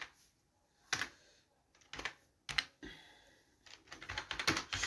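Code is typed on a computer keyboard in short, close bursts of clicking keystrokes separated by brief pauses, growing into a faster run of clacks at the end, heard alone in a quiet room.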